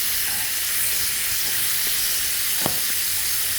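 Chicken livers frying in a pan with peri peri seasoning, a steady bright sizzle with a brief clink near the end.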